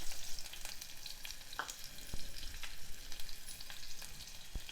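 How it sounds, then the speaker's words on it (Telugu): Chopped onion drops into hot oil already crackling with mustard seeds and cumin, a steady close sizzle broken by occasional sharp pops and spatters, with no voices. "ఆ తర్వాత ఒక చిన్న ఉల్లిపాయ చిన్న ముక్కలుగా కట్ చేసి వేసుకోవాలి"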